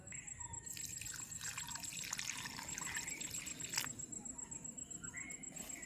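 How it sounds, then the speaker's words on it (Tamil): Onions, green chillies and ginger being washed by hand in water in a village outdoor kitchen, soft splashing and trickling close by, with crickets chirring steadily in the background. "நாங்கள் எல்லாத்தையும் நல்ல வடிவாக கழுவி எடுப்போம்."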